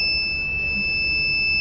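A NodeMCU posture detection system's buzzer alarm sounds as a steady, continuous high-pitched electronic tone, loud and unbroken over a low background hum, with no talking.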